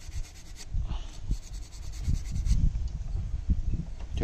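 An abrasive sponge is rubbed back and forth over the crankcase surface of an EFCO MT3500S chainsaw, making soft, close scrubbing strokes in an irregular rhythm with no talk.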